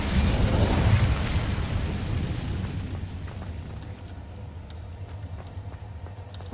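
Incendio fire spell from Hogwarts Legacy bursting in a loud roaring blast that fades over about three seconds into a quieter crackling tail.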